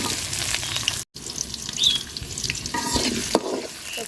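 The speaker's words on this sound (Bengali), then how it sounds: "তো পেঁয়াজটা লাল লাল করে ভাজা নিব।" Onions sizzling and frying in a little hot oil with garam masala in a pot, a steady crackling hiss with stirring scrapes, close and continuous, broken by one brief dropout.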